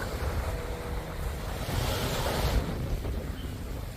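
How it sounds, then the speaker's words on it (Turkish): Waves wash onto a small, empty beach in the middle of Mordoğan, Turkey, on a cold day. Continuous surf rolls in under heavy wind buffeting the microphone, with no talking. "Burada küçük bir plaj var."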